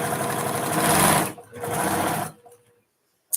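A sewing machine runs loud and close in a steady whirring burst, pauses briefly, runs again, then stops, followed by a single sharp clunk.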